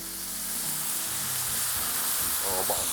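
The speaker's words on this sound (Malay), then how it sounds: "Dia punya bunyi tu kan. Itu maksudnya kuali kita memang betul-betul panas lah." Loud, steady sizzling hiss of water hitting a very hot wok, close up, with faint clatter underneath.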